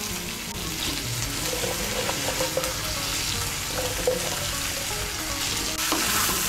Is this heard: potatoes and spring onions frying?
yes